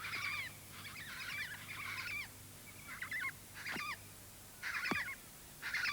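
Major Mitchell's cockatoos give a series of harsh, wavering calls in the Australian bush, about six short bursts spaced irregularly, moderately distant and fairly quiet against a low background hum.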